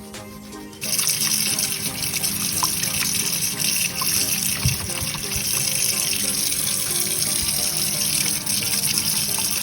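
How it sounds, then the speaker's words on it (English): Running tap water gushes steadily into a sink while paint brushes are washed out with washing-up liquid, starting abruptly after a brief quiet moment and continuing loud and close with small splashes and knocks. "Next, you need to wash out your brushes."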